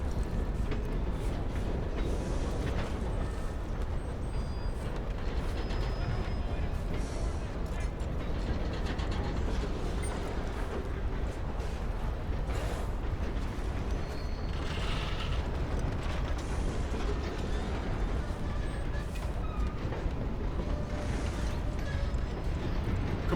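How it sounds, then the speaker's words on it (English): A long train rumbling past in Red Dead Redemption 2, a steady heavy clatter of wheels and rattling cars that holds loud and close throughout. "Let's wait for the train."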